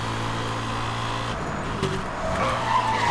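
A car slides sideways in Need for Speed: Hot Pursuit (2010), its engine droning steadily under a rising tire screech toward the end, loud and close with no talk.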